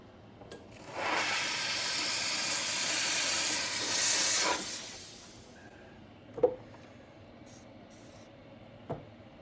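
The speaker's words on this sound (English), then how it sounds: "Let me go steam this real quick, see if I can get it to clean up some." Steamer blasting a broken orthodontic splint with a loud, steady hiss of steam for several seconds, then cutting off, followed by a few sharp clicks and taps in a quiet lab.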